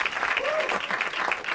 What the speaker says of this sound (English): Excellent clapping skills, everybody.